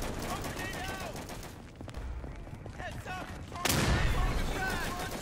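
Thompson submachine gun firing in the Day of Infamy shooter game: sharp, overlapping bursts of gunfire with a loud crack near the end, amid ongoing battle noise and voices.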